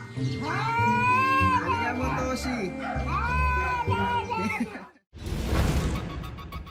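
A cat yowls and caterwauls loudly in long, wavering wails that rise and fall, joined by low droning voices underneath, then a sharp break into a noisy rushing burst near the end.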